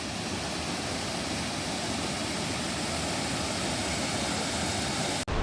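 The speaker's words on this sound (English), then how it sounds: "That was the Triberg waterfalls." The Triberg waterfalls in Germany's Black Forest roar in a dense, unbroken wash of falling water, loud and close and steady throughout, cutting out abruptly at the very end.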